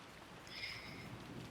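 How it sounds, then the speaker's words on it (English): Steady rain from a visual novel game's soundtrack, set in a dim corridor in Umineko; a continuous soft hiss with a faint tonal swell in the middle, heard alone at low level. "her head filled with the sounds of rain"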